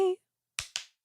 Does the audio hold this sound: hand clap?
yes